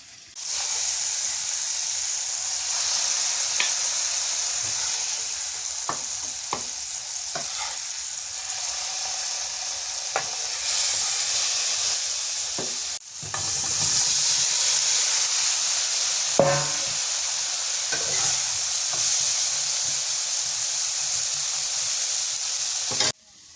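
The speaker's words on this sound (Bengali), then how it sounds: "ওদিক দিয়ে বেগুন ভাজিটা হোক" Eggplant slices fry in a pan of hot oil in a village kitchen, giving a steady, close sizzle with occasional stirring scrapes and brief bursts of spattering, with no voices.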